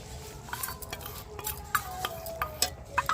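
A spoon stirs momo chutney mixture in a pan, giving close, irregular scrapes and metallic clinks against the pan over a faint low background, with no voices.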